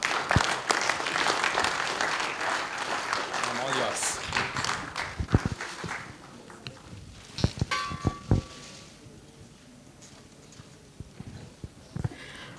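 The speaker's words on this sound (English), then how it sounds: "please welcome the delegates from RMB Coimbatore with a huge round of applause" Audience applause at a business conference, the BizNxt International Conclave, fills the first half as dense, loud clapping, then thins and fades while people talk and scattered sharp knocks continue.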